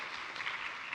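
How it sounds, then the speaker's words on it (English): Brief, faint applause from an audience after an afternoon presentation on performance management, a soft steady wash of clapping heard alone. "A round of applause for what we did?"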